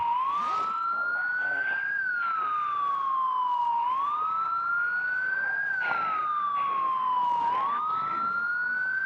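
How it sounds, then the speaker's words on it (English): A police-style car siren in the video game Project Zomboid wails in a continuous rising and falling cycle, loud and close, with speech and faint game noises underneath. "we're gonna have to shut the siren off so I can park the car."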